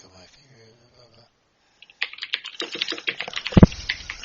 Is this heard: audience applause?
no